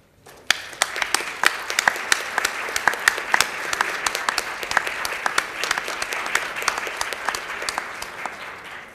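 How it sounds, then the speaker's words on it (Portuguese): An audience claps in sustained, lively applause at the closing plenary of the IV Internet Forum in Brazil, many hands overlapping into a dense patter that holds steady throughout. "Eu queria que esse plenário aplaudisse a essas pessoas."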